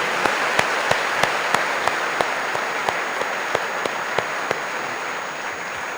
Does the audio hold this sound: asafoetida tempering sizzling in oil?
no